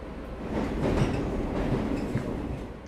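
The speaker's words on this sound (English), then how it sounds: "Eventually, the metro arrives at our destination." Metro train rolling steadily with a continuous low rumble and wheel clatter, close and fairly loud throughout, no voices.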